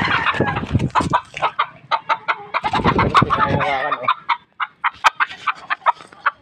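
Chickens cluck loudly and close, a mother hen among them, in quick choppy bursts with a few sharper calls and short pauses between runs.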